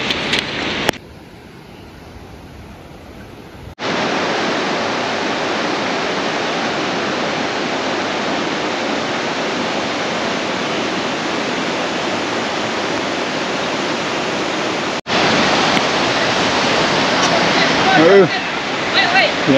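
A mountain river on the Shey Phoksundo trek in Dolpa rushes in a loud, constant roar. The level jumps abruptly a few times as the position shifts closer to or farther from the water.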